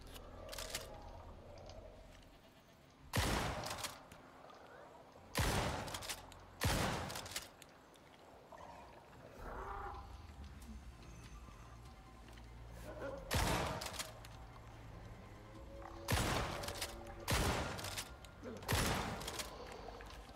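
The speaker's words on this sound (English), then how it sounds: "I'm gonna shoot that one with an obsidian shotgun shell." Obsidian shotgun shells fired in the survival game Icarus give a series of loud, sharp blasts at irregular intervals, several in pairs, over a low ambient game background with no talk.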